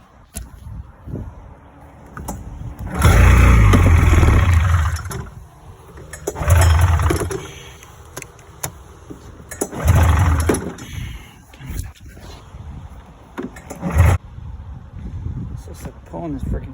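Snowmobile engine cranking and catching in three loud bursts that sputter and fade between attempts, trying to start and rev but failing to hold, with a voice talking briefly in the gaps.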